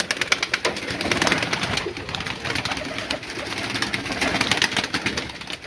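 Female pigeons let out of their cage coo repeatedly in soft, throaty bursts close by, mixed with rustling and flapping, no voices.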